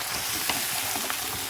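Boiled gram is stirred into a hot pan with fresh greens, a continuous frying sizzle with a few soft scrapes and clicks of the spoon, close and steady with no talking.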